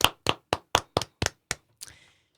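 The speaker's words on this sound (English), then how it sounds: "Let's give a little round of applause for Jeff Pillar, the owner of All City Towing" A few slow, separate claps sound in a radio studio, about eight sharp, evenly spaced hand slaps, close and dry, ending with a softer, ragged final clap.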